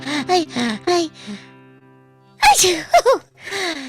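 A sharp sneeze bursts out between stretches of melodic voice, close and loud against the surrounding singing.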